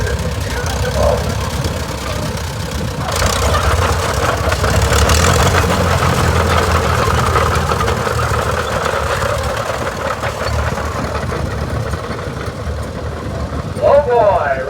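A 1979 International Snowboy 184 tractor runs in a parade at an outdoor show, a steady mid-pitched engine rumble close by, heard continuously under the noise of the crowd and the surroundings.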